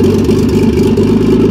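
A Nissan Datsun Bluebird 910 with an RB20DET engine idling at around 800 rpm, a loud, steady, close low rumble with an even mechanical throb and no voices.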